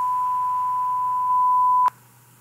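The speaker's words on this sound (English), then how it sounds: "That's a 1000 Hz sound." Pure 1000 Hz hearing-test tone, a steady, clean beep held for about two seconds at constant loudness, then cut off abruptly with a faint click.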